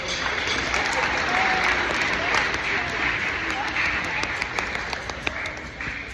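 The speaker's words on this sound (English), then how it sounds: "big round of applause for these students up here." An audience at a school band concert gives sustained applause for the band students, a dense, steady wash of clapping with crowd noise and some voices mixed in.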